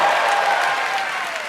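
A live studio audience of about 3,600 people cheers and applauds loudly and steadily, a dense wash of clapping and shouts with no pause throughout.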